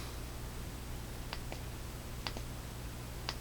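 Faint, sharp clicks from the switch of an ArmyTek Viking Pro (Upgraded) flashlight being turned on, scattered singly and in close pairs over a steady low hum, with no talking.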